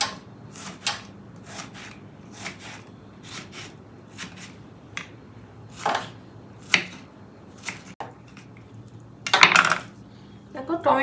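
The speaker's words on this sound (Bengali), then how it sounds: "টমেটোটাকেও ঝিরিঝিরি করে কাটবো।" A knife finely chopping a tomato into thin slivers, with irregular sharp cutting taps against a board, some close and crisp, with a brief clatter of utensils near the end.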